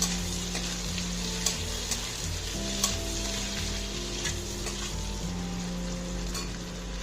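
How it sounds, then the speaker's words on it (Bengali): Green capsicum sizzles and crackles steadily in hot oil while being stirred in a pan, with a constant close frying hiss and a few sharp clicks from the utensil, alone without talk. "এরপর সবুজ ক্যাপসিকামটা দিয়ে দিচ্ছি। খুব বেশিক্ষণ তেলের মধ্যে নাড়াচাড়া করা দরকার নেই।"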